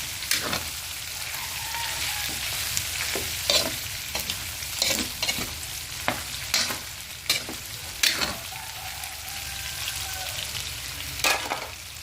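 Chicken seasoned with pepper toasts lightly in a pan, giving off a constant soft sizzle with scattered scrapes and taps as it is stirred. Close and moderately quiet, with no talking.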